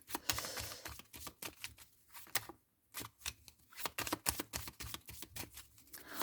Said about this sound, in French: Là, on me dit 12 cartes. Donc je vais prendre 12 cartes.